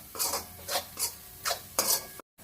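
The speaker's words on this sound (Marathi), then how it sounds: "हे सगळं मिक्स करून घेऊया। 1-2 मिनिटं परतून घ्यायचं।" Pav bhaji masala and red chilli powder are stirred in a pan for street-style Mumbai pav bhaji, with five distinct scraping strokes of a spoon against the pan in a steady rhythm, close and fairly quiet, then a brief cut to silence.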